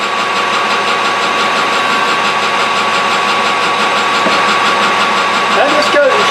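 Small lathe taking a cut through harder material while machining a fly cutter, a steady close grinding and whirring drone with a brief squeal of tool chatter near the end; a voice is heard talking over it.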